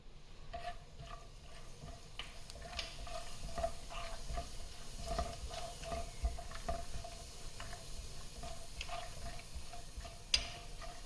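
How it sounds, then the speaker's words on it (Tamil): Cinnamon, star anise and cumin sautéing in hot oil, a faint low sizzle broken by light spoon taps and stirring clicks, with a sharper knock near the end and no speech. "எண்ணெய் நல்லா சூடானதும் இதில் எடுத்துருக்கிற பட்டை, அன்னாசி பூ, ஜீரகம், இது எல்லாத்தையும் சேர்த்து வதக்கிக்கலாம்."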